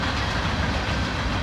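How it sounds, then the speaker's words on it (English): A train rolls past on the railroad at night as a steady, loud wash of rumbling wheel and rail noise, continuous throughout with no talk. "Special thanks for the train for running by for our extra sound effects tonight"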